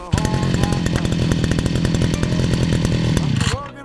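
A Holzfforma FF541R petrol brush cutter's small two-stroke engine fires up and keeps running loudly at a steady, buzzing idle for a few seconds, then cuts off abruptly.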